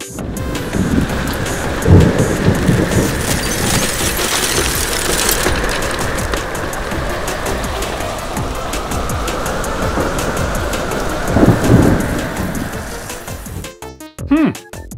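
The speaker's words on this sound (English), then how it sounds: "now it's time for the storm" A thunderstorm with steady heavy rain hissing throughout, low rumbling thunder swelling near the start and again toward the end, and a sharper crackling burst at the close.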